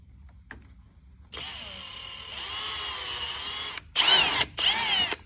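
A power drill whines steadily for a few seconds as it bores into soft plastic, followed by two short, louder bursts.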